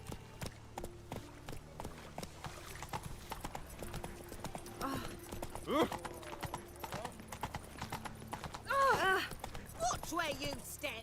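The horse Roach galloping in the video game The Witcher 3: steady, rhythmic hoof clip-clops throughout at moderate volume. A voice talks over it now and then, and a short horse snort or whinny comes near the end.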